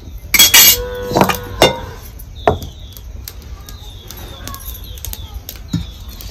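A metal pot lifted and a kadai set down on a home stove while frying potato vadas, giving a few sharp metallic clanks and knocks early on, then quieter scattered clinks over low kitchen background.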